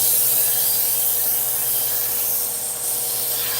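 A blade being sharpened on a steel or rod at a consistent angle, a steady continuous scraping rub that fills the whole stretch at close range, with no talking.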